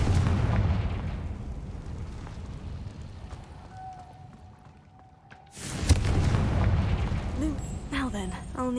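Confringo blasting spell explosion in the video game Hogwarts Legacy: a loud, sudden burst near the six-second mark that stays as a dense roar until the end, following a quieter rumbling stretch with no speech.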